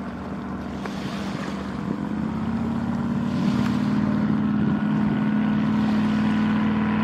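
A motorboat engine drones steadily at a distance across Stampede Reservoir, a low continuous hum with wind and faint wave wash around it.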